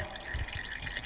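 Oil drips faintly and irregularly from a Lamborghini as it drains into a pan, soft close drops with no talking.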